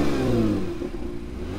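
A Honda NSX hybrid supercar engine revs loudly and steadily close by, a deep rumble that eases slightly partway through with no voices.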